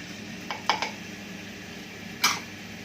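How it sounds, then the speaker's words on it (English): Half a kilo of pork shoulder cooks in a pan while a utensil scrapes and clinks against the metal, a few sharp knocks over a faint background hiss. "I'm going to saute that around, just stir it"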